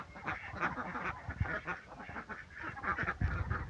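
Ducks quacking close by in a backyard flock, a rapid run of raspy honking calls overlapping one another, moderately loud and with no talking.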